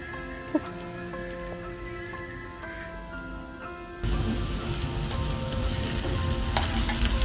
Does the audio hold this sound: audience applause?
no